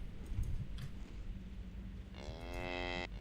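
Oinix creatures, tusked pig-like beasts in the video game Geneforge Mutagen, give a low drawn-out mooing bellow near the end over a dull rumbling background, with a fainter grunt earlier.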